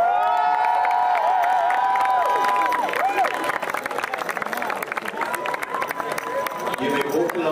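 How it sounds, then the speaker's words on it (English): Crowd cheering and applauding for the third-place team at an international Quadball Nations Cup medal ceremony, loud and sustained with shouts, a tonal sound near the start and voices mixed in throughout. "Please, a loud applause for Team Turkey."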